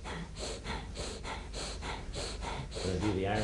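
Rhythmic belly breathing during a qigong exercise, roughly seven breathy puffs at an even pace, close and fairly clear, with a voice starting to speak near the end.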